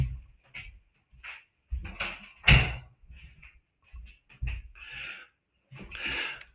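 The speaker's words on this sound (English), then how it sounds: "I just need to shut that door behind me." An indoor door is pushed shut with a single loud thud midway, surrounded by softer shuffling, rustling and breathy movement noises from someone nearby.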